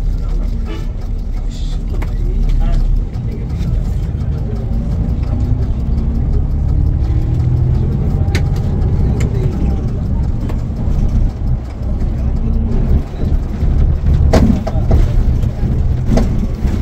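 An Ena Hyundai bus engine drones loudly and steadily from inside the cabin on the night run along the Sylhet road, a continuous low rumble with road noise and occasional rattles.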